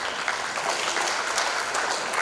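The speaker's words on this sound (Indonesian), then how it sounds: "Silakan tepuk tangan yang seperti itu." Applause from an audience at a regional language ambassador pageant final: a dense, continuous wash of many hands clapping, steady and moderately loud throughout.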